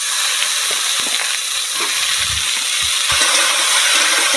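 Onion and potato rubbed with salt and turmeric, along with slit green chillies, fry in oil in a pan in a village kitchen, giving a loud, continuous hissing sizzle broken by occasional stirring clatter.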